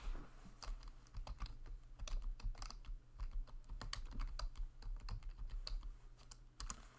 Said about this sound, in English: And I will type it in here for you.